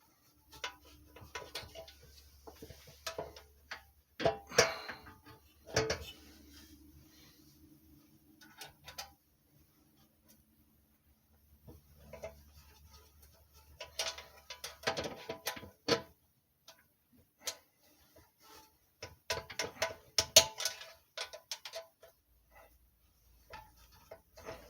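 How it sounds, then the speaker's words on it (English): An Allen wrench clicks and ticks in quiet, irregular bursts while a bolt is slowly threaded into a 5hp Briggs and Stratton go-kart engine, with faint handling noises between the clusters. "Now I can start to thread it in with the Allen wrench."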